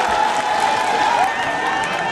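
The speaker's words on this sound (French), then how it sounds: "Applaudissements, s'il vous plaît." Crowd applause and cheering at a funeral celebration in Babouantou, Cameroon, a dense steady roar of clapping and voices filling the space at close range without pause.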